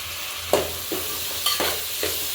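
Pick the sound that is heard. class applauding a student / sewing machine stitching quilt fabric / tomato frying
tomato frying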